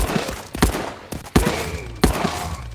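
Gunshots ring out in the VR shooter Contractors during survival mode, four sharp, loud reports spaced unevenly about two-thirds of a second apart, each trailing a brief echo.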